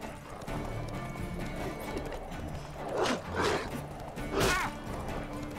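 Horse hooves in the Witcher 3 video game while riding on horseback, a steady clip-clop gait with a few louder snorting or whinny bursts over a background of game ambience.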